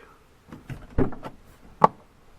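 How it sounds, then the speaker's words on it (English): Car doors on a first-generation Scion xB are opened at night, heard as a few soft clunks and rattles followed by one sharper latch click, close by in a quiet setting. "Open the doors, nothing happens."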